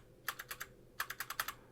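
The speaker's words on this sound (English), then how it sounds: "Very clacky space bar." Someone types on a thrifted computer keyboard with a wide, clacky space bar, two quick bursts of crisp, close keystrokes separated by a short pause.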